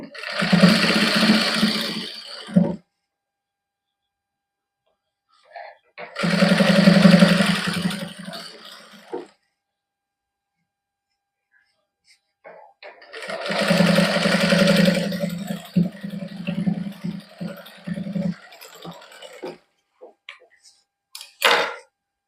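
Sewing machine stitching lace onto a cotton suit, running in three loud bursts of rapid, steady stitching with short pauses and a few handling clicks between them, with no talk over it.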